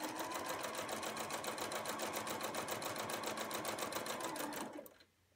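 Sewing machine stitching along a fabric edge with the presser foot as a guide, a steady, fast, even whir running close and alone for almost five seconds before stopping abruptly.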